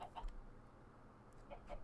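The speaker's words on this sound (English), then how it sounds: "Hopefully these chickens won't despawn, but they should give me enough eggs" Chickens clucking in the Minecraft Agrarian Skies modpack: a few short, faint clucks near the start and again near the end, over a quiet low background with no talk.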